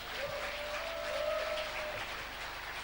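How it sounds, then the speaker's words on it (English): An audience at a young scientists award ceremony in Tanzania claps for a sponsor in a steady, fairly faint wash of applause, with a thin tonal hum running through it. "A round of applause to Vodacom,"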